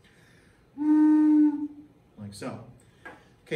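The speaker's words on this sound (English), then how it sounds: "instead now I'm going to play what is called a closed pipe. Closed pipe occurs when I cap one end." A whistle played as a closed pipe with one end capped gives a single steady, rich tone lasting under a second, followed by a brief spoken remark and some handling noise.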